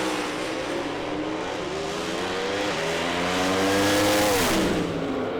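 A Pro Slammer drag racing Mustang at Sydney Dragway, run out to 390 km/h, roars loud and continuous under full throttle, its engine note climbing in steady harmonics and swelling near the end before easing off.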